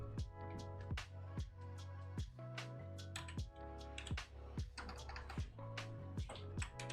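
Close, uneven keystrokes on a computer keyboard typed with one hand, irregular clusters of sharp clicks with brief pauses, quiet and alone.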